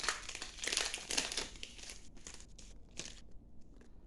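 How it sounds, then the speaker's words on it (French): Pokémon card booster pack wrapper torn open by hand, close, quiet crinkling and ripping foil that is busiest at first, then thins into scattered rustles. "Ensuite, on ouvre un deuxième booster de Mewtwo."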